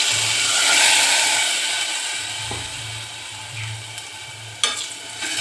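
Khichdi rice fries in hot oil while a spoon stirs it. Close, continuous sizzling with scraping strokes, and a sharp knock near the end.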